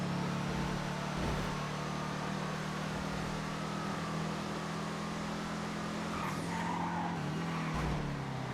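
Cars in GTA FiveM race around a track, a steady engine drone over constant skidding and tire squeal with a few louder screeches near the end, continuous and without speech.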